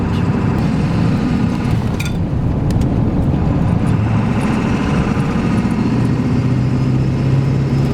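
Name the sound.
Ford F-250 truck engine running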